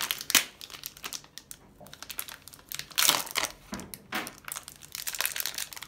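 A plastic package of Turkish tulum cheese is pulled open by hand, giving close, uneven bursts of crinkling and crackling plastic with short tearing sounds and pauses between them, and no talking.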